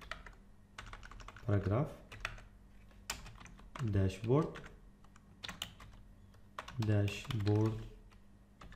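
Typing on a computer keyboard while coding, scattered close key clicks running beneath a man's intermittent speech.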